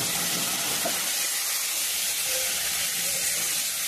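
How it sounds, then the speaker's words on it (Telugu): Beef mutton pieces frying in onion paste, turmeric and spice masala for a gongura curry: a steady, continuous sizzling hiss, close and even, with no talking. "ఇప్పుడు మసాలాలు వేగిన తర్వాత బీఫ్ మటన్ వేసుకుందాం"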